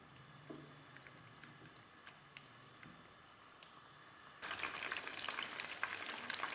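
Chicken drumsticks fry in a little oil over a medium flame, a faint low crackle that bursts into a louder, steady sizzle partway through with no talking.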